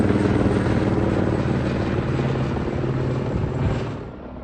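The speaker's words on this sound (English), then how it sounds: "I can hear a helicopter." Helicopter flying near a helipad, its steady rotor thump and engine drone loud and continuous before easing slightly toward the end.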